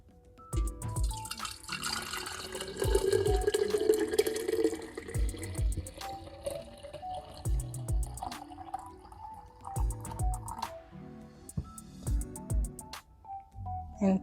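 Homemade basil lemonade, whisked first, is poured into a 3.5-cup mason jar, giving a running, splashing liquid stream with drips and a few clinks of glass, moderately close and fairly quiet.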